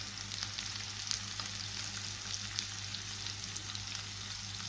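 Vegetables sizzle steadily in a hot pan seasoned with salt and spices, a dense, even crackle that runs unbroken throughout with no voices.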